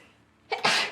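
A single sharp sneeze bursts out after a quiet start, a quick intake followed by a loud, breathy explosion.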